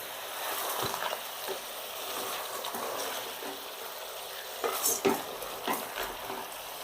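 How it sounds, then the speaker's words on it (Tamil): Chicken pieces with salt and a small tomato stirred in a pan for chicken curry, a soft steady sizzle with occasional utensil scrapes and clinks, faint and close, no talking. "இப்போ இதை ஒரு 5 நிமிஷம் வதக்கணுன்னா நல்லா தண்ணி விடும்."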